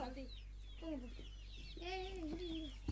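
Soft clucking and peeping calls from young Kadaknath chickens, several short chirpy notes scattered across the moment, fairly quiet with a low steady hum underneath.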